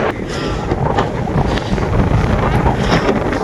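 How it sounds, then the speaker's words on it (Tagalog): Strong wind sweeps across red sand dunes at Mui Ne, Vietnam, buffeting the microphone in loud, continuous rushing gusts with no break. "Lakas ng hangin dito sa Dubai."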